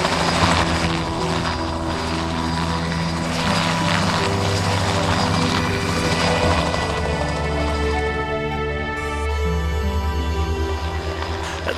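A Time Team helicopter readies for takeoff on an archaeological site for an aerial survey, its engine and rotor producing a steady, loud droning whine with a rhythmic blade thrum throughout, no voices.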